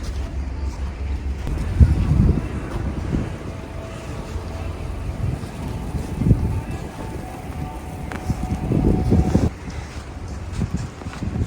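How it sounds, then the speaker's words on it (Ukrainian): Cool wind gusts blow outdoors in central Kharkiv, rumbling against the microphone in uneven surges throughout, with faint city ambience underneath. "Дуже такий прохолодний вітер."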